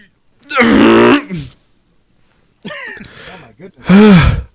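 A man coughs hard in a podcast studio, three rough bursts with short gaps between them, loud and close, sounding strained and breathless.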